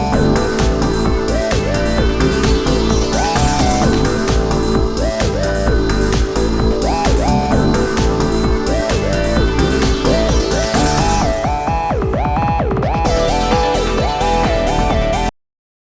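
A techno track from the original Super Monkey Ball game: loud, dense electronic music with a driving steady beat and a bouncing synth melody running throughout, ending abruptly.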